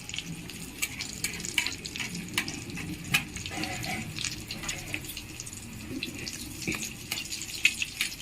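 Homemade egg cutlets sizzle in frying oil, a continuous crackle scattered with bright pops and soft utensil scrapes, close and steady throughout.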